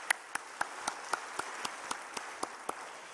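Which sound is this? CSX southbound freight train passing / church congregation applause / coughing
church congregation applause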